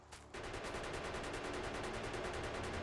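Rapid, continuous automatic gunfire from a gun turret in the video game Factorio, starting abruptly after a brief moment and hammering on steadily and loudly to the end, with no talk over it.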